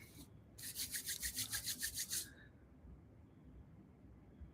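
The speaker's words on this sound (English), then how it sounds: "Rub your hands together." Hands rubbing briskly together in a quiet room, about ten rhythmic swishing strokes over roughly two seconds, close and fairly soft, followed by stillness.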